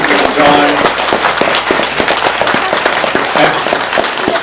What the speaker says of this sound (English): can we please give a huge round of applause for George, Susan, and John?